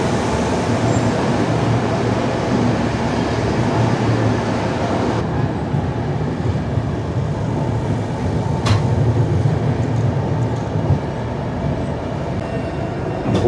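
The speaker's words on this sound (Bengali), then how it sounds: "ভুবনেশ্বর ছেড়ে ট্রেন বেরিয়ে গেল" The 22201 Puri Duronto Express pulls out of Bhubaneswar station, a loud, steady rumble of rolling wheels and carriage noise heard from aboard, continuous throughout, with no one talking.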